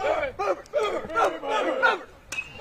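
Players cheer and yell loudly from a high school baseball dugout, with several overlapping voices in rhythmic shouts that rise and fall over a few seconds.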